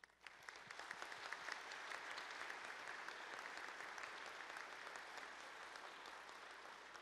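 A church congregation at Sunday Mass claps to greet new communities and ecclesial movements, warm continuous applause rising quickly and holding steady throughout, heard from a distance and fairly faint.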